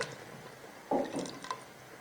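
Water is poured into a pot of meatless potato qorma made with yogurt: a brief, quiet splash and trickle lasting under a second, standing alone against a soft background.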